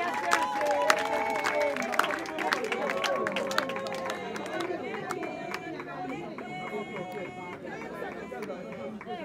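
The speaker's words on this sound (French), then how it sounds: "je nous prie de l'applaudir très fort" Audience clapping at an anniversary celebration, with scattered sharp claps at first under lively crowd chatter and overlapping voices, the clapping thinning out as the talk carries on.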